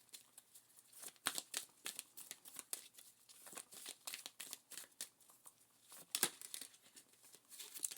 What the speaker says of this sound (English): I'm going to shuffle and see if that comes out.